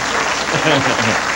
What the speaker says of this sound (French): Il mérite qu'on applaudisse, hein?